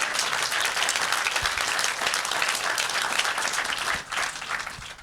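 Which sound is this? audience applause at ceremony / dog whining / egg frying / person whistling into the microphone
audience applause at ceremony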